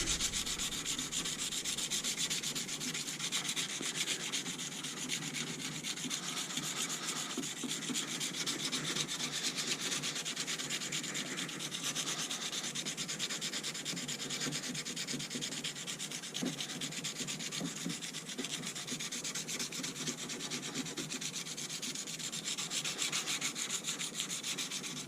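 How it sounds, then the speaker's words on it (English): Hand sanding a wooden knife handle with a leather sanding stick, a steady close rasping rub repeated in quick back-and-forth strokes for the whole stretch, with no voices. "it's a good good sanding stick for handles also"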